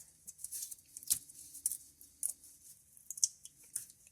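Peeling an old oil pan gasket off a Jeep engine gives soft, crackly scraping and tearing sounds in short irregular bursts, close and fairly quiet, with no talk.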